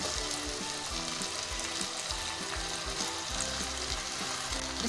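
Cabbage, onion, capsicum and carrot stir-fried together in a pan, giving a loud, steady sizzle with repeated scraping stirs throughout and no talking.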